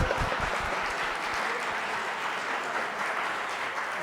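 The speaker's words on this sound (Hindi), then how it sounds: "अच्छा ताली आपने गलत जगह बजा दी" Audience applause at a poetry recital, a dense, steady clapping from a full hall that holds at an even level throughout, with a faint voice or two underneath.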